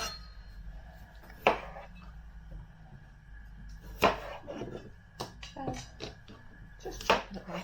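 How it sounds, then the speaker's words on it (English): Potatoes being chopped on a board for a beef stew, three sharp knife strikes spaced a few seconds apart with smaller cutting taps between them, close by in a quiet kitchen. "Just chopping up my potatoes like so."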